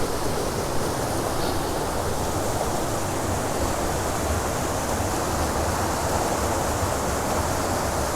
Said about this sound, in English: Look at that next to the little waterfall.